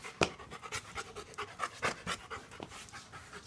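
A Labrador Retriever pants rapidly and steadily at close range, each breath a soft rhythmic huff, with no voices over it.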